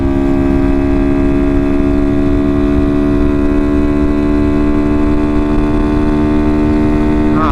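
Honda Grom motorcycle engine held at high revs near its rev limit, a loud, steady droning whine that stays constant throughout with a slight pitch wobble at the end.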